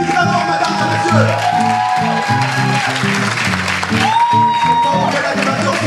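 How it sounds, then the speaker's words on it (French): Loud applause fills the background while a voice speaks over it, with a steady crowd wash and occasional sweeping musical tones. "Elles sont pour l'applaudissement, mesdames et messieurs."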